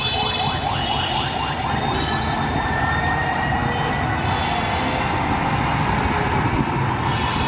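A metro train at Dhaka University metro station rumbles loudly and steadily close by, a continuous rolling roar with no voices.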